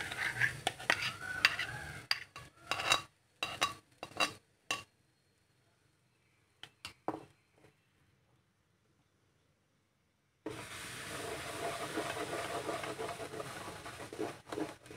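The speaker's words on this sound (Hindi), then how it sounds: "इसे बिल्कुल हल्का सा हम लोगों को थोड़ी देर के लिए ही इस तरीके से भूनना है" Ground karaunda fruit pulp roasting in a hot frying pan for jam. Intermittent scraping and stirring clatter is followed by a near-silent pause, then a steady, close sizzle that runs to the end.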